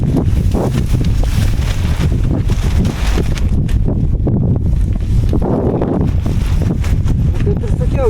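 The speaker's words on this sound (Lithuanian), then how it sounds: "Ir aišku, jau vėjukas kyla." Wind gusting loudly across an open outdoor spot, a steady rushing roar buffeting the microphone throughout, with rustling and flapping mixed in.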